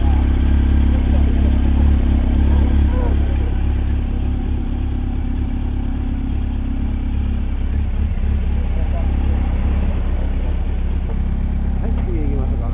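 A motorcycle engine, one of a group including a CB1300SF, Zephyr 750, Hornet 600 and Sherpa 250, runs at a steady loud idle close by, with a deep constant rumble and light mechanical clatter.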